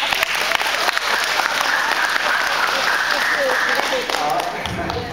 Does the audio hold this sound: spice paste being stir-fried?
no